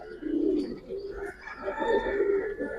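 Giribaz and coloured pigeons coo at close range, soft low rolling calls that repeat and overlap in a quiet enclosure.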